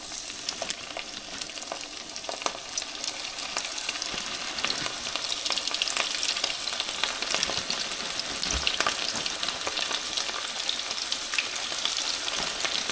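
Fish dropped into hot frying oil gives a steady, loud bubbling sizzle that stays dense and even throughout, with faint crackles and no talking.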